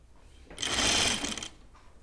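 A sewing machine runs a short burst of rapid stitching along a seam on a caftan dress, starting and stopping within about a second, close and fairly loud over a quiet room.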